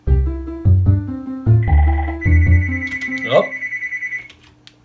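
Electronic telephone ringtone trilling in a repeated pattern over synthesized note-block melody tones, with a brief exclamation from a man partway through.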